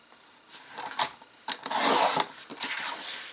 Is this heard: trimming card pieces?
yes